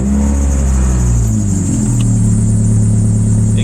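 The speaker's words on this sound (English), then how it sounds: "here's the exhaust sound" A Dodge Neon's exhaust drones loudly and close, the engine note shifting pitch as it revs mid-way, with no talking.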